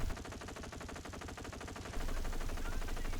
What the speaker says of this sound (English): Surprising that MG is able to fire through the smoke